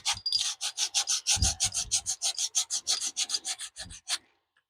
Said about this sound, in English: All I'm trying to do is sand that in.